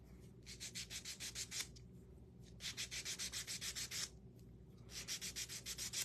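Sanding a painted crow craft piece by hand, rhythmic rasping strokes in three bursts of quick back-and-forth rubbing separated by short pauses, close and clear.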